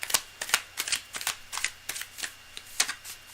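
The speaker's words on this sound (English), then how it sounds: "Cards are well shuffled." Tarot cards riffled and tapped in quick, irregular bursts, a run of soft crisp clicks and flutters heard close up and fairly quiet.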